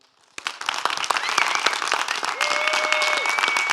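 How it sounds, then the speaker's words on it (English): A group applauds a special guest at a Shabbat gathering, with sudden dense clapping that holds steady. A faint tone runs beneath it. "if you'd just like to give him an applause"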